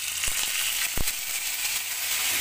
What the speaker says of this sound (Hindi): इसमें मैंने हल्का सा ऑयल डाला है तो ये गर्म हो गया है हो गया है तो सबसे पहले हम इसमें डालेंगे जिंजर गार्लिक का पेस्ट